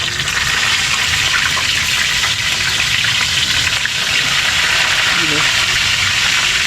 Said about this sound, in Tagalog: Salang po natin ating isda, prito natin.